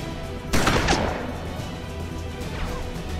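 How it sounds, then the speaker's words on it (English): A single sharp gunshot impact strikes the player's side in the turn-based game Hard West, a loud close crack followed by a short decaying tail and quieter ambient game sound. "Oh, we've taken a shot."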